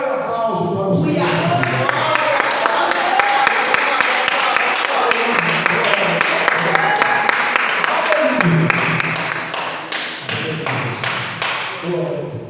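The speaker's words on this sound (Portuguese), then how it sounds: "dê o melhor aplauso para o Senhor" A church congregation applauds during a healing and deliverance service, sustained clapping with taps and thuds that continues for about eight seconds before thinning, with voices mixed in.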